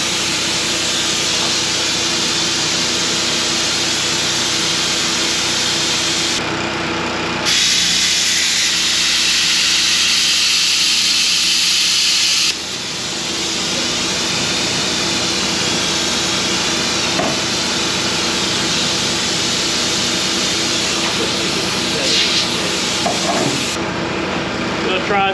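A newly bought handheld plasma cutter is tried on a piece of aluminum. It gives a loud, steady rushing hiss of air and arc that cuts out for a moment and then resumes, with short gaps and a few brief clicks.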